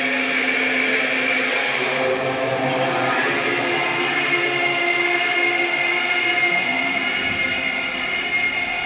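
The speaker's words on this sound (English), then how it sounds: "It's a sound, a clarion call from hell. Somehow, you know what it is. A Caprice Commander motor carriage." A Caprice Commander motor carriage in the Disco Elysium game, a loud, steady engine drone with a rumbling low tone that holds throughout, with no talk.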